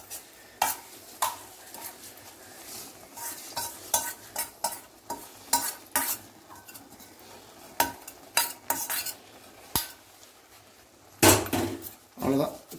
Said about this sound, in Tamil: இப்போ அந்த சாதத்தோடு தான் இதை நம்ம அப்படியே மிக்ஸ் பண்ண போகிறோம்.